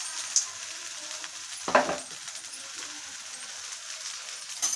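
Peanuts, chana dal and urad dal frying in oil for Kurnool-style lemon rice, a soft steady sizzle with a brief clatter of stirring midway and faint pings, no talking.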